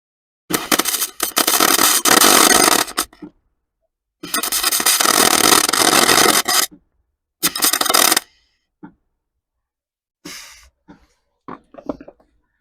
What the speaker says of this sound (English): Okay, I'll grind that nicely just now.